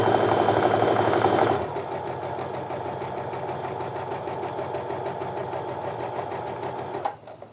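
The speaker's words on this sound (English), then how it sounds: "And now we're going to sew down the other side of that line that we drew." A sewing machine stitches fabric for a quilt block, running fast and loud at first, then slowing to a steady, rhythmic mechanical whir before stopping near the end.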